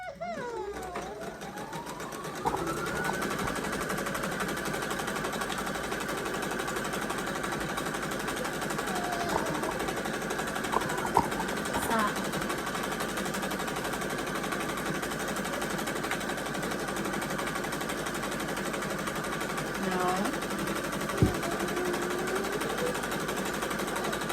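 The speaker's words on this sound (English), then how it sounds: "now I'm going to sew my straps together down the side with a 1/2 inch seam allowance" A sewing machine stitches bodysuit straps together down the side with a narrow seam, running in a steady, continuous whir close by for most of the stretch, with brief pauses and small clicks.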